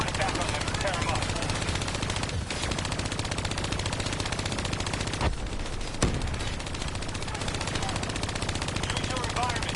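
Sustained automatic gunfire from a hijacked turret in the shooter game Black Ops III, with rapid continuous bursts that carry through the whole stretch. There are brief gaps, and a voice speaks beneath the shooting.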